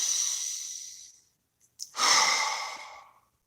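Two long, deep breaths close to the mic, a slow exhale, then a pause, a brief sniff, and a second full breath out fading away, with no talking.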